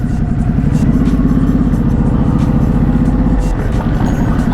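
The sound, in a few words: motorcycle engine revving, sounds like a Yamaha R1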